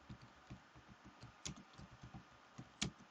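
Irregular, soft clicks and taps from typing on a computer keyboard, fairly quiet and close, with a couple of sharper key strikes and no talking.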